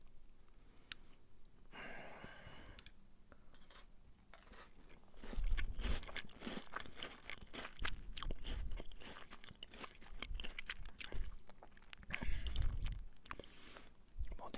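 Crunchy French sablé shortbread biscuit chewed close to the microphone, with repeated soft crunching and biting bursts, mouth clicks and occasional breaths, heard alone without talk.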